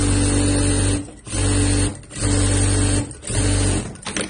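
A sewing machine stitching a rolled, curved shirt hem, running in loud steady mechanical bursts of about a second each, separated by brief pauses, close up with no talking.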